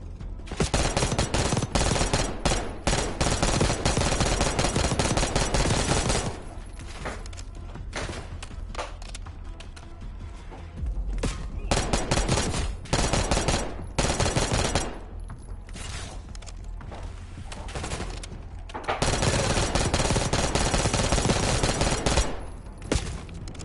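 Dense bursts of automatic gunfire and heavy shots boom through a Call of Duty Black Ops 6 campaign battle, loud and relentless, with brief lulls between sustained volleys.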